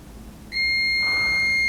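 Steady multimeter continuity beep in a computer trace-repair check: a clean sustained electronic tone that switches on abruptly and holds loud and unbroken to the end, with no talking.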